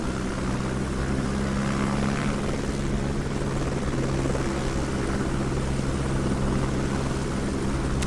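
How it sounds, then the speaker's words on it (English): A helicopter in flight in the video game Only Up!, a loud, continuous rotor and engine drone holding steady throughout with no talking. "Do I get to ride in the heli chopper?"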